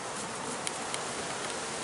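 Honey bees from a package at a Colorado Springs bee supply shop buzz in a dense, continuous hum, loud and close, with no talking over it.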